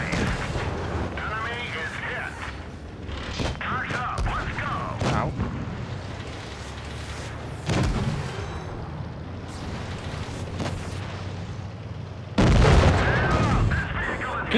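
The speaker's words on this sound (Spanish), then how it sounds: "Mira ese disparo, full extraño" Gunfire in an online video game's troll mode: repeated loud booming shots and blasts at irregular intervals over a dense battle din, with a voice talking through parts of it.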